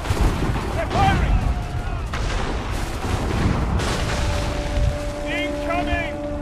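Ship cannons fire during a naval battle in the video game Assassin's Creed III, heavy booming shots amid wind and sea rumble, with shouting voices and whistling projectiles overhead.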